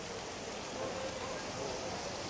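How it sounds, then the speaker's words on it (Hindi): Heavy monsoon rain pouring down in Sadar Bazar market, Delhi, a dense steady hiss of rainfall on surfaces, constant and even throughout with no breaks. "इतनी तेज़ बरसात हो रही है और यहाँ लग रहा है कि पानी भी भर जाएगा सदर बाज़ार में।"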